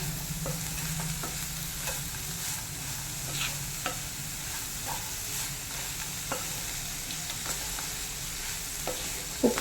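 Green beans stir-fried with salt in a pan for a Kerala bean stir-fry, a steady close sizzle broken by repeated scraping and clinking of a spoon mixing them, with no talk.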